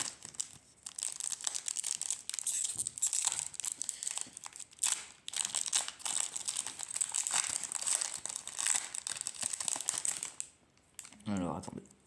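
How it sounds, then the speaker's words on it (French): A crinkly foil booster pack of retro reprint trading cards is torn open and handled close up, giving a long stretch of dense crackling and crumpling that ends in brief rustles. "on va s'ouvrir le premier booster"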